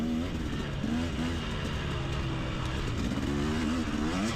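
A dirt bike at a Carolina cross-country race accelerating hard down a straightaway, its engine droning loud and close with rising and wavering pitch throughout.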